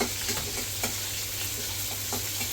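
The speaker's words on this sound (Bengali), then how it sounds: "মাছটাকে ভাজি নিই" Steady close sizzle of fish frying in hot oil in a pan, a continuous hissing crackle with small pops scattered through it, even in loudness and without any voice.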